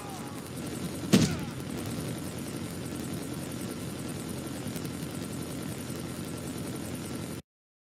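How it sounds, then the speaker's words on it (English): A hunter killer drone deployed in the shooter game Call of Duty: Mobile gives off a steady, helicopter-like whirring drone, with one sharp bang-like burst early on over a constant noisy battlefield background. "Friendly hunter killer drone deployed"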